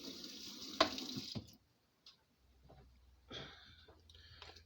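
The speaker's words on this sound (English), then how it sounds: "Okay, so I'm going to rinse this first." Kitchen tap water runs steadily for about a second and a half while an item is rinsed before canning sweet heat corn relish, then cuts off, leaving faint clinks and handling noises.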